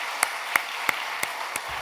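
Clapping fills a church service during a report on an overseas short-term mission trip: five sharp, evenly spaced claps in steady rhythm over a soft hum of room noise.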